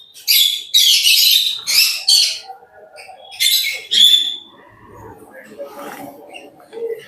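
Pet birds, cockatiels among them, chirp and squawk at feeding time in bursts of loud, bright calls, with quieter rustling and dish clatter between them.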